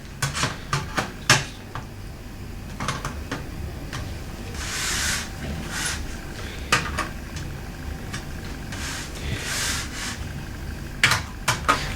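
Twisted metal case tabs on a Sky+ box being bent straight, with sharp metallic taps and clicks in uneven clusters alongside stretches of scraping and rubbing, close and moderately loud, no talking.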